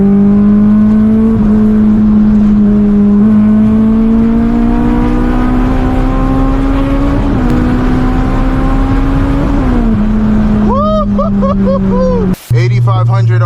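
A Honda S2000 engine revs hard and climbs steadily toward 8,500 RPM, loud and close, with gear shifts and a brief cut near the end.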